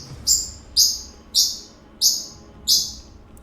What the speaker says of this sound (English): Sorry for the bird, by the way. He's been really loud.